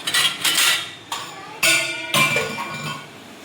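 A knife and plate are picked up and set down at home, giving several close, bright clinks and clatters in uneven bursts separated by short pauses.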